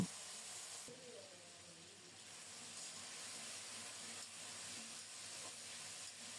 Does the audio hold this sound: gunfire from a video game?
no